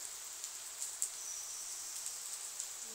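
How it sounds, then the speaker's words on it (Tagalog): Light rain falls steadily on a hot day, a faint even hiss of patter with a few soft drips standing out, alone and distant. "Ayan, maulan ngayon."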